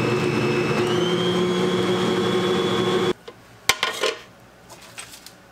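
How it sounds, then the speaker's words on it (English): Sugar cookie dough is beaten with an electric mixer, whose steady whirring motor runs for about three seconds before stopping, followed by a few clinks and scrapes of a bowl and utensil. "I'm going to mix it a little bit, and then I'm going to scrape it down and mix it some more."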